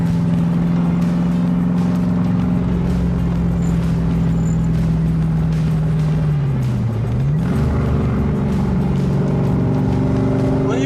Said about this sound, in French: Un petit filet de gaz sur l'accélérateur et on est déjà parti